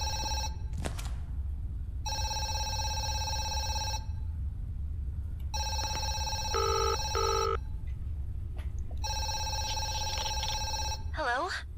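A telephone in the horror video game Zoochosis rings in repeated bursts of an electronic bell, roughly two seconds on and two off, loud and close, over a low background hum.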